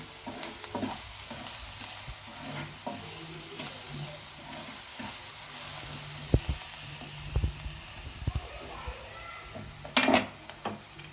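Pav bhaji masala with salt frying and being stirred in a pan for cheese masala pav, a steady soft sizzle with a spoon scraping and clattering at intervals, louder clinks near the end.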